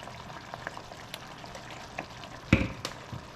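Beef stroganoff sizzles softly in a pan, with scattered pops and crackles and one sharper spit as a splash of Worcestershire sauce hits the hot pan.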